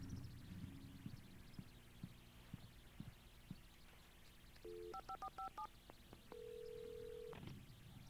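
Telephone dialing in the Alan Wake video game: a quick string of touch-tone beeps followed by a longer steady tone, faint and clear over a low background hum with soft rhythmic thumps.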